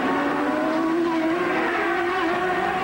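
A Lola-chassis IndyCar racing on track in 1997, its engine a steady, loud, high-pitched drone with a sustained tone that shifts only slightly over a few seconds, no voices present.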